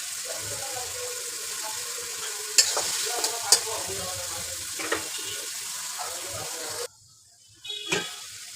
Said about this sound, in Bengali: মশলা দিয়ে একটু আমি কষাই নিয়ে তারপর ডিমগুলো দিয়ে উল্টে পাল্টে পানি দিয়ে দেবো